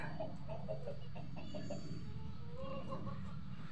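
Chickens and a rooster cluck softly nearby in a backyard with pet buff hens, faint and scattered under low background noise, with a little quiet talk.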